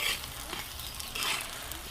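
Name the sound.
coriander seeds roasting in oil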